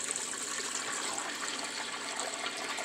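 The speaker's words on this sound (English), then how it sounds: "Takes about a minute to drain, and then we'll do another cycle, rinse cycle." Kuppet compact mini washing machine's pump draining water, a steady gushing, trickling flow heard close up and fairly quiet, continuous without pause.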